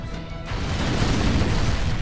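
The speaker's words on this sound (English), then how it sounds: "Everything's blowing up." Explosions in a Halo game on the hardest difficulty, a sudden heavy rumbling blast that swells and holds as a loud, low, noisy roar for about a second and a half.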